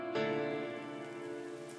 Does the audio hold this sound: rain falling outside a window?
yes